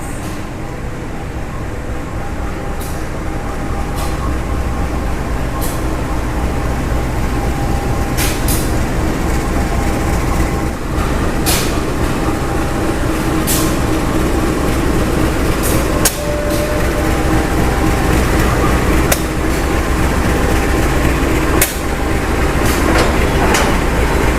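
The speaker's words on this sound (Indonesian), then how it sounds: "Lokomotif dinas dari kereta api Sri Bilah sudah dirangkai dengan rangkaiannya teman-teman" At a station platform, a CC201 or BB203 service locomotive of the Sri Bilah train couples to its carriages, a steady idling rumble broken by sharp metallic clanks and bangs at irregular intervals.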